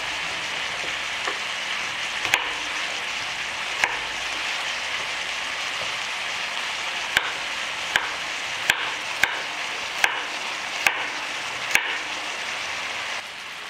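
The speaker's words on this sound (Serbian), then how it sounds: "Dok se luk i meso prže, iseckat ću 2 šargarepe." Knife chopping two carrots into small cubes on a board while onion and meat fry nearby; scattered sharp taps, some clustered in quick runs, over a steady sizzling hiss.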